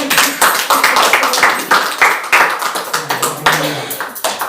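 Church congregation clapping for the Lord during a Spanish-language sermon, a close, loud, uneven run of sharp claps in bursts, with a voice partly heard among them.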